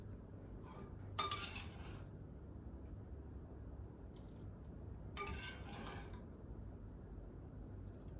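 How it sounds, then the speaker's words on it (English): Meat going into a pot of chili sauce, heard as a few short clinks and scrapes of a utensil against the pot, spaced apart, over a low background hum. "I'm gonna add my meat because I want my meat to really pick up the flavor"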